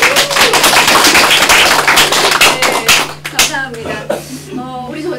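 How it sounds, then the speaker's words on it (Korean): An audience at a book forum author talk claps together, a dense burst of applause that thins into scattered claps while voices start speaking over it. "박수 치면서 한번 시작해볼까요?"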